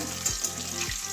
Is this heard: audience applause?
no